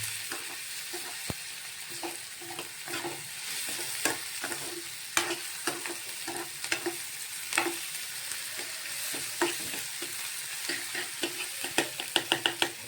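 Chillies and onions sizzle in a pan while a spoon scrapes and stirs through them, steady frying hiss beneath repeated clicking scrapes that grow quicker toward the end.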